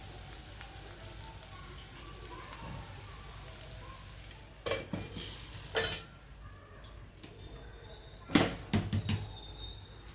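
Onion frying in a pan and being stirred, a soft continuous sizzle broken by several louder scraping bursts from the stirring, heard fairly close with no clear speech.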